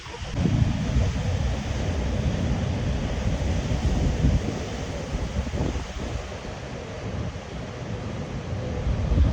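Steady, roaring surf of large ocean waves breaking at Nazaré, Portugal, with rumbling low wash and some wind buffeting the microphone throughout.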